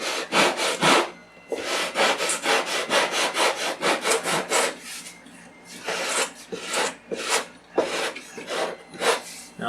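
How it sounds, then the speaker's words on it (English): Rough-grit sandpaper scrubs the foam leading edge of a model plane wing in quick rhythmic back-and-forth strokes, close and fairly quiet, with brief pauses between bursts. "Now I'm using a pretty rough grit sandpaper here."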